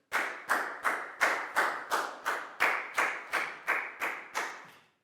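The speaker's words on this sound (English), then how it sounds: "a big round of applause for Net" Children in a primary maths class clap together in a slow, even rhythm, about a dozen sharp, unison claps in a row, each one ringing briefly, with no talking over them.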